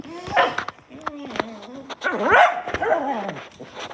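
A dog barks and whimpers close by in short, uneven bursts with yips and whiny cries, while a person talks over and between the sounds.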